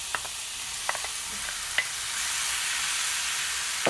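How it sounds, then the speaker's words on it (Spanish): Pineapple and habanero sauce sizzles in a frying pan while a utensil stirs and scrapes it in scattered clicks over a constant bright hiss. "Vamos a revolver todo, a mezclarlo perfectamente."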